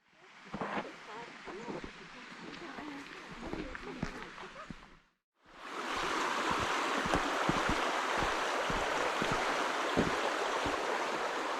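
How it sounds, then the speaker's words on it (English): The River Dove flows through Dovedale Valley, a steady rushing wash of water close by. Quieter voices and movement come first, then the flow swells to a loud, even roar after a brief gap. "this is Dovedale River on my right"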